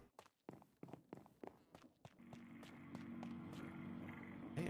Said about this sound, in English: I can hear my shoes now.